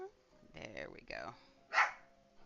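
A dog barks in short sharp yips and whimpery bursts within a Roblox Adopt Me game, spaced across a couple of seconds and heard close and moderately loud.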